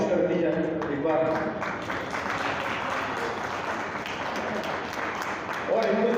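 An audience at a Hindi comic poetry gathering in Haridwar breaks into sustained applause, a dense wash of clapping with a voice heard briefly at the start and end.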